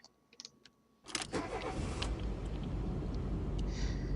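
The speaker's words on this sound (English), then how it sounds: "One steel key ran its teeth along the top of the ignition before Yumi turned it and awoke the engine." A car engine starting with a key in the ignition: light key clicks and rattles, then the engine catches abruptly and settles into a loud, steady idle nearby.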